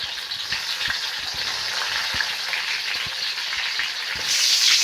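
Onions, curry leaves and green chillies fry in hot oil with mustard seeds, a steady close sizzle broken by faint stirring taps, swelling louder near the end.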